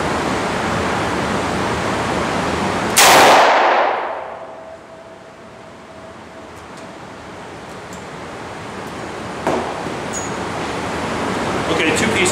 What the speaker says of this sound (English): Shows why you wouldn't want to be standing next to somebody shooting 357 Magnum.